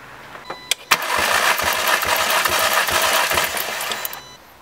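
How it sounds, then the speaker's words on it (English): Volkswagen Golf Mk5 GTI engine cranking on the starter with the throttle held wide open for a compression test, a few clicks then a continuous, close whirring crank pulsing rhythmically for several seconds before stopping. "what I'm going to do is go crank the engine for about 5 seconds and we'll see what the reading says"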